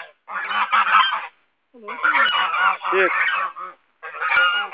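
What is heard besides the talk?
geese honking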